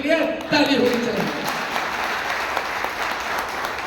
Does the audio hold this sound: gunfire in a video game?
no